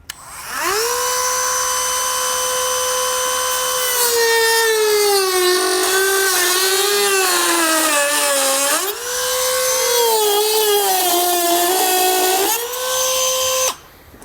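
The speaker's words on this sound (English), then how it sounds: "We're just going to pretty much trace that as best as we can with our Dremel tool here." A high-pitched Dremel rotary tool whines steadily, its pitch dipping and rising as it cuts into plastic on a 2021 Jeep Cherokee, running continuously for the whole stretch.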